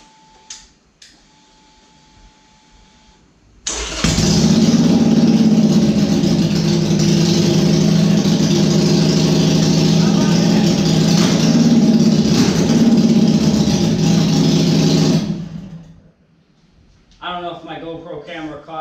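2017 Harley-Davidson Sportster 883 with drag pipes, a loud, deep, throbbing idle that starts abruptly, runs for about eleven seconds, then cuts off, followed by someone talking.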